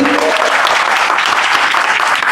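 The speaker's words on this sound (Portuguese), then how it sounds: "Salva de palmas à Monocromia também" A game jam awards ceremony crowd claps for a winning team, loud continuous applause close to the microphone, a dense unbroken wash of many hands throughout.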